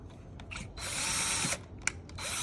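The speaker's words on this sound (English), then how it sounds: "So now you're gonna drill a hole like so." A power drill bores a pocket hole through wood held in a jig, whirring in short bursts and then a sustained run, with brief pauses between.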